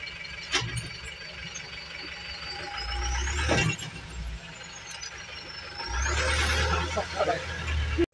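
A Tata 407 pickup truck parking, its diesel engine rumbling and rising in two heavier surges, with a sharp air-brake hiss near the middle; voices talk intermittently over it.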